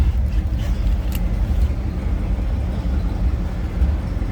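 A 1957 Chevrolet Bel Air two-door hardtop idles in neutral, a steady low rumble from the engine running alone and close, with no talk over it.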